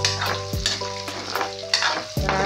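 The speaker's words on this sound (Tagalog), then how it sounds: "Bago ko igisa ang gulay, toasted muna natin yung ating pork." Pork sizzling loudly as it toasts in a pan ahead of sautéing vegetables for a vegetable guisado, a steady fry hiss broken by several sharp thumps and scrapes of a spatula stirring, with no talking.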